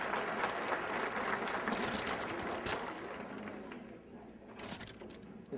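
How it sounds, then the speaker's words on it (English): An audience at a softball hall of fame induction ceremony claps in a sustained, dense round of applause that fills the hall, fading slightly before a short final swell. "How about, first of all, a big round of applause for Bruce Lupke, CKLQ."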